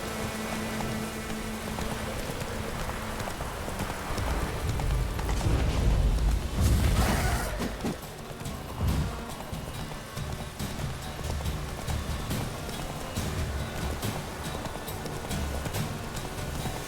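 Roach the horse galloping in The Witcher 3: rhythmic hoofbeats under rumbling mechanical and weather-like game ambience, swelling midway, with a voice briefly present.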